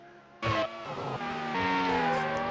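A Formula One car in the Grand Prix 4 racing game locks its brakes and slides into the gravel, heard as a sudden engine note with a short scrub followed by rising engine pitch, loud and close, with no talk.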